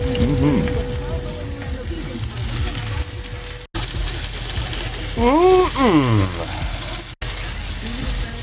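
Food sizzles and crackles steadily in a hot pan, with a voice speaking briefly over the frying hiss.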